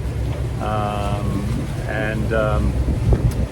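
Steady breeze buffeting the microphone outdoors aboard a sailing boat in Tonga's Vava'u Group, a constant low rumble and hiss running throughout while people talk over it.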